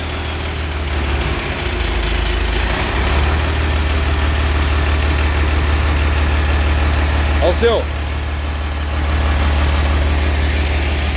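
A Mercedes-Benz MBB 1621 truck with an OM366LA diesel idles close by, a steady deep rumble that runs unbroken for the whole stretch while people talk over it.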